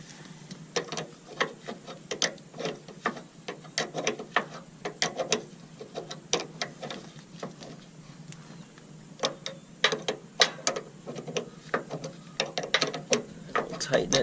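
A ratchet wrench tightens a plug during maintenance on an Onan Cummins RV QG 5500 generator, giving quick, fairly quiet clicking runs in repeated strokes with short pauses between them.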